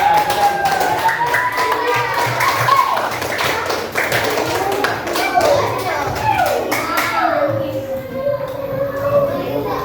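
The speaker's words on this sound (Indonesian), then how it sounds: "Nah, sekarang berikan tepuk tangan untuk kelompok 2." Children in a fifth-grade classroom clap for group 2, dense overlapping hand claps and taps running throughout, with kids' voices and a teacher's talk mixed in at close range.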